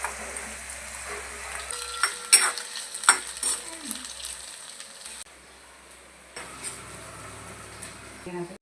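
Onion and capsicum sauté in a kadai with soft sizzling and several scraping stirs and utensil clinks, then the sound drops to quiet room noise.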